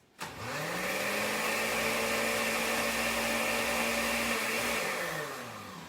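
A blender purees pesto sauce ingredients, spinning up sharply and whirring steadily at close range for several seconds before winding down, with no voices.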